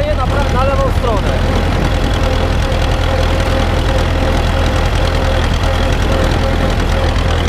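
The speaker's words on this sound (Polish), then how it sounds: "jechałem teraz tym ciągnikiem, tak? Jadę zresztą" An Ursus tractor engine runs steadily and loud throughout while being driven, a constant low rumbling drone with some faint tonal whine from a tractor that pulls to the left side.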